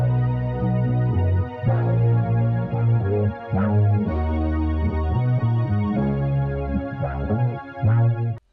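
Layered chords from Juno 6 string pad, Vespertone Rhodes electric piano and Keyscape upright piano, a warm sustained progression with soft attacks changing every second or so, steady and clear with no voices.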